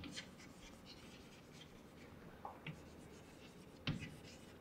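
A pen or marker writes a sum in rupees during a Class 4 maths lesson on word problems. The faint scratchy strokes come in short bursts against a quiet room, and no one speaks.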